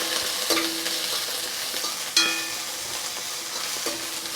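Chopped onion frying in oil with mustard seeds, cumin and dried chillies, a constant crackling sizzle punctuated by a few sharp stirring scrapes and clinks.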